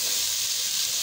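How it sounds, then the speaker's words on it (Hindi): Chopped onions fry in hot oil for mutton yakhni pulao, a loud, steady, close hiss with no break across the short stretch. "तो इसके बाद जो है हमने इसमें प्याज डाल दिया है कटे हुए"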